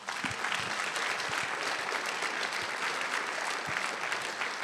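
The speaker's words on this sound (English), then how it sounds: "I don't think I'm going to get a better round of applause" Audience at a temple event gives a sustained round of applause, dense, even clapping filling the room at moderate volume from start to finish.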